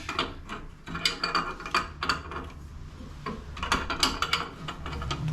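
An aluminum wrench clicks and ratchets in short, uneven bursts while tightening fittings on a 1969 pro street Camaro, close and moderately loud.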